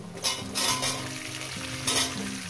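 Flat beans fry with kachki fish, spinach and radish in a pan, making a steady close sizzle broken by a few louder stirring scrapes.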